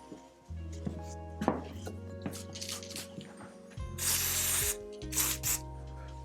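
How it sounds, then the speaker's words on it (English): Lube is sprayed onto squeaky brakes on a Marin Muirwoods bicycle during a tune-up: a long hissing burst, then a shorter one, over low tonal background sound and light clinks, with no talking. "If you ever have squeaky brakes, just spray some lube on them"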